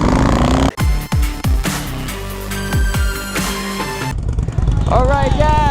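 A 2008 Harley Davidson Road King CVO with 98,000 miles races a Vulcan 650, engines revving loudly with rising and falling pitch sweeps, passing close with strong throaty roar.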